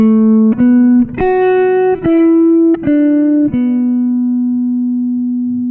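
A solo guitar plays a slow melodic phrase of about seven sustained notes with crisp attacks, ending on a long held note that slowly fades.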